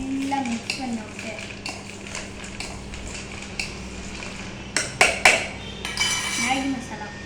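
Squeezed lemon is mixed into food with a utensil, light scraping and clinking of metal against a pot, with a few sharper clanks near the end and faint speech underneath.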